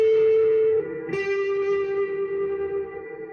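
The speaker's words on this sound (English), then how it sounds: "Nice ethereal reverb sound." Electric guitar played through a Catalinbread Sinkhole ethereal reverb pedal with feedback, mix and modulation turned down: a sustained note rings alone, then a second struck chord blooms into a long, shimmering, gently fading wash of reverb.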